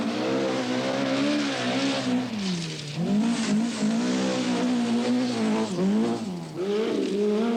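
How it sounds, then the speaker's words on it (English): A Toyota Celica rally car on a stage of the 1982 Lombard RAC Rally, engine revving loudly and rising and falling in pitch through gear changes, with no talk over it. "Swede Bjorn Valdegaard leads another Japanese attack with his Toyota Celica"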